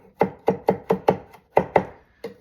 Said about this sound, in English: I got some parsley here I'm going to cut up.